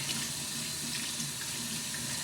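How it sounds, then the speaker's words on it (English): A kitchen tap runs steadily as dusty containers are rinsed beneath it, a constant close hiss and splash of water with no speech. "so I'm going to give them a good rinse."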